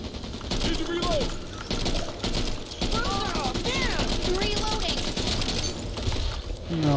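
Dense, rapid gunfire rattles almost continuously in the zombie shooter Back 4 Blood, with bursts overlapping creature screeches and impacts while players talk over the chaos.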